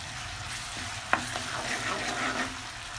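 Ginger garlic paste frying in a pan, a steady soft sizzle under light stirring with one sharp tap of the utensil against the pan, close and fairly quiet, no talking.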